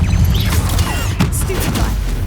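A Depulso spell goes off in Hogwarts Legacy with a loud, dense burst of crashing, whooshing magic, layered with combat noise throughout.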